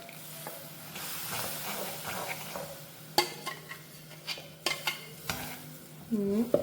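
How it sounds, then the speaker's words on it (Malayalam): Ground tomato paste goes into a hot pan for rasam, raising a soft steady sizzle punctuated by sharp metallic clinks and scraping stirs that grow more frequent toward the end. "നമ്മൾ തക്കാളി അരച്ച് വെച്ചേക്കുന്നത് അതും കൂടെ ഇത് ഒഴിച്ച് കൊടുക്കാം"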